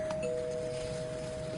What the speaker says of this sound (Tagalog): Sino nag-doorbell?